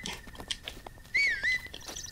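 Link whistles while sprinting in Zelda: Breath of the Wild, a short rising-and-falling tonal whistle standing out over a steady high game tone and light background effects.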